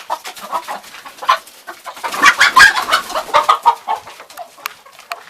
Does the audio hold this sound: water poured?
no